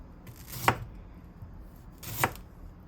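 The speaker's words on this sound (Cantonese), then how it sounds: "薑切返2片" Two separate knife chops through ginger on a cutting board, each a sharp close thud with a short woody knock, spaced well apart in an otherwise quiet kitchen.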